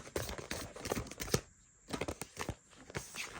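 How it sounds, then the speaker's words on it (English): A tarot card deck being overhand shuffled, giving quick papery riffles and soft slaps in uneven bursts, close by and moderately loud, with a short pause in the middle. "sure this will overhand shuffle well."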